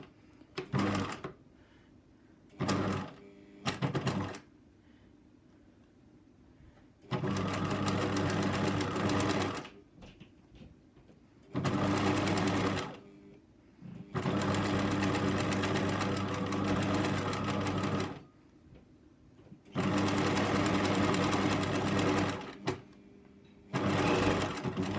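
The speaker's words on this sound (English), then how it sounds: "and then we stitch away." A sewing machine stitches a fabric hem in repeated bursts of rapid mechanical whirring, each running several seconds and separated by short pauses, close and clear with no voices.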